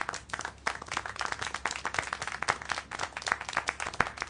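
A crowd claps in a brisk, irregular patter of applause in the video game Syberia: The World Before, steady and moderately loud throughout.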